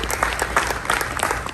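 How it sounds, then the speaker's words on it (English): A church congregation clapping hands together, brisk irregular claps from many people in a reverberant hall, fairly loud throughout. "Clap your hands, church."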